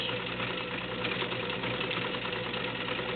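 A White Selectronic model 970 heavy-duty sewing machine runs steadily while stitching decorative patterns, giving a continuous close, even motor hum with a fine rapid mechanical chatter and no voices.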